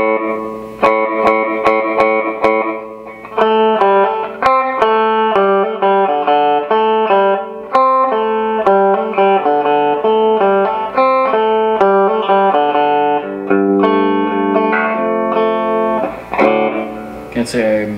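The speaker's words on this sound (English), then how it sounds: "So let's take a listen to the built-in effect again. So this one says delay reverb." A clean guitar played through a small amp's built-in delay reverb effect, picked single notes and chords ringing out with echoing repeats and a wash of reverb, loud and alone without talk.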